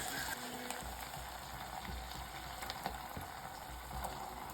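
Dried munyevhi (mufushwa) with meat frying in a pan, a steady close sizzle with faint crackles and no talking.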